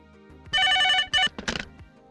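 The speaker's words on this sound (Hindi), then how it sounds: "लगता है सलीम का कर्जे के लिए फोन आया है" A telephone rings with an incoming call: two loud, close electronic ring bursts in quick succession, each a steady bright tone, followed by a short clattering handset sound.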